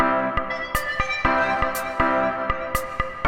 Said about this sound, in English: So the A send goes to reverb.